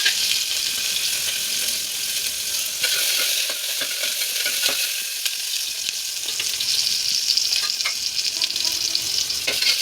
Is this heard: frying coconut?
yes